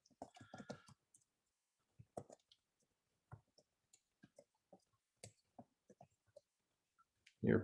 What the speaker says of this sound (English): Your fingers get used to the pattern, so you just start typing.